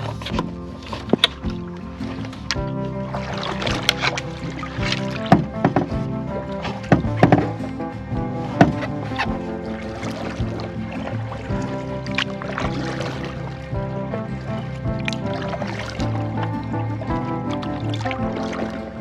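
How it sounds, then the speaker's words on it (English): Person clambering cautiously into a small canoe, with hollow knocks and thuds against the hull, light water sloshes and shifting creaks, close and uneven, in a series of irregular bumps. "I was just thinking as I was, clambering into the boat very cautiously"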